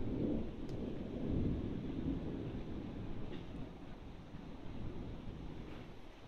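Thunder rumbles low and continuous during a heavy thunderstorm in Mytishchi, a distant rolling roar that swells early and slowly fades, with a faint hiss of rain or wind over it.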